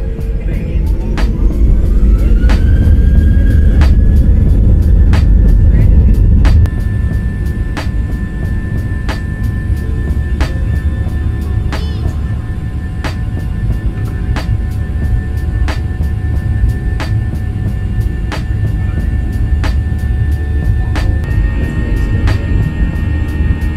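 A Qantas Boeing 737 taking off, heard from inside the cabin as a loud steady low engine roar with rumbling and a rhythmic series of clicks or thumps throughout.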